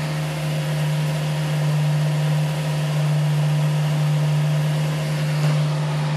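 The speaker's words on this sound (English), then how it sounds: "Well, that is revving a bit high, so I might just take a bit of revs off" A car engine idles on its own, a steady, fairly loud hum holding slightly high revs without change and without talking.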